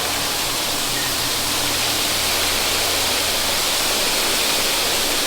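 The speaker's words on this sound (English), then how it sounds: "that's a lot of water comes out of there" A shower runs at high water pressure, giving a loud, unbroken hiss of spraying water with no voices.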